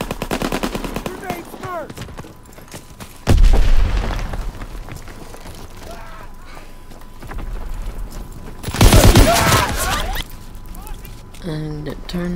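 Gunfire rattles and explosions boom in Call of Duty WW2 multiplayer, with two heavy blasts standing out over continuous game noise and someone talking throughout.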